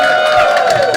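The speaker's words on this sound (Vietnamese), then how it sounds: "xin quý vị cho một tràng pháo tay rất lớn" An audience at a campaign office launch in Orange County claps and cheers loudly as a candidate for county supervisor steps onto the stage, a brief burst of dense, close crowd noise.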